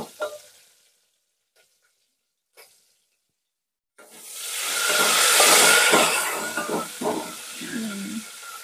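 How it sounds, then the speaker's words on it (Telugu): Onions fry in a pan with a loud steady sizzle that rises sharply after a few near-silent seconds, with stirring scrapes and faint clicks. "ఇప్పుడు ఎర్రగడ్డ దోరగా వచ్చినాక వేయించుకుందాం"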